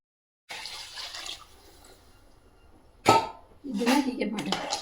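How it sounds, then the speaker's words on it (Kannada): Water poured into a pot of chicken biryani, first a faint trickle, then a sudden splash and a longer gushing pour, close by. "ಈಗ ನೀರು ಹಾಕೊಬೇಕು"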